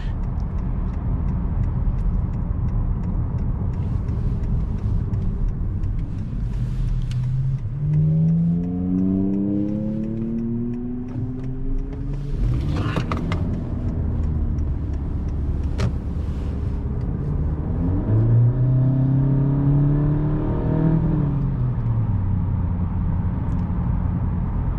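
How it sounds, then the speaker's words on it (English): A 2018 Honda Accord Sport with its turbocharged engine accelerating from inside the cabin, two rising engine pulls climbing through the gears over a steady road hum, fairly near and clear with no talking. "This car pulls pretty quick once it gets off that initial turbo lag."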